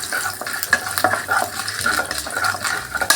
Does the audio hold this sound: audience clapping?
no